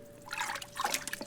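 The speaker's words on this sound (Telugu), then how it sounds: "కుండలోకి రాళ్లు పడేసరికి నీళ్లు పైకి తేలాయి." Stones dropping into a water-filled pot in an animated crow story, a brief watery trickle and splash with a couple of plops, close and fairly soft.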